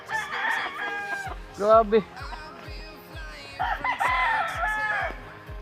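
Chickens cluck and a rooster crows on a small mini farm. Several loud crows and bursts of clucking rise over a quiet background, and a person speaks briefly.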